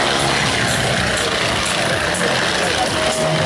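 Engines of yellow US Army propeller training airplanes rumble steadily at takeoff during the Guiscriff air show, a loud, rough, continuous drone with a voice faintly present beneath.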